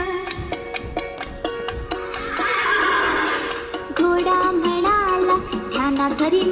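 A horse whinnies loudly and repeatedly, long shrill calls rising and falling, with no talking.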